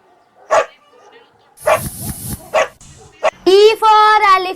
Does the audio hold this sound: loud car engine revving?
no